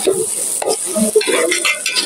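Rice for khichuri is being fried and stirred in a pan, with loud, steady sizzling and scraping stirs throughout, without any voices.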